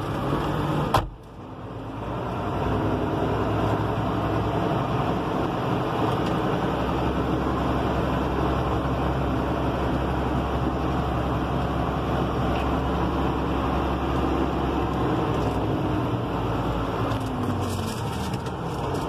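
A Renault 155-54 tractor engine runs with a steady low diesel rumble as it drives a short distance and shifts through forward and reverse. The drone is even and continuous after a brief jolt near the start.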